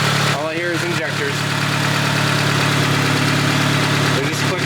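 Turbocharged Honda Accord engine idling, a steady loud mid-pitched drone with fast fine ticking from the fuel injectors running beneath it, plus a brief whirring or squeal near the start.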